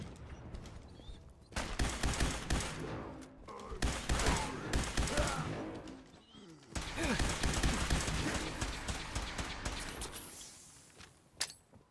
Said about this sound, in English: Let's shoot some lasers.